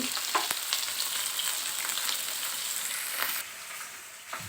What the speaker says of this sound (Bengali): এখান থেকে আমি মাছ ভাজছি